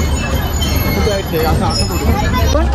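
Passenger train travelling on rails, heard from inside as a loud, continuous rumbling roar with rattling, dense and unbroken.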